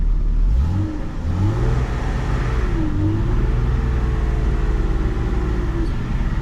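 A Jeep Cherokee with a leaking radiator hose drives along, its engine giving a loud, continuous close-up drone whose pitch rises and falls slightly as it pulls away and cruises.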